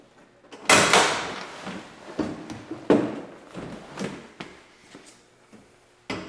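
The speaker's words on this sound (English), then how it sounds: "make sure there's no issue with the door closing" A Jeep door closes with a solid thunk, followed by several more knocks and latching clunks at uneven intervals, fairly close.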